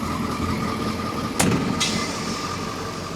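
A truck engine idles steadily at a low, even rumble, with a brief sharp broadband burst partway through and a second lighter one after it; no one speaks.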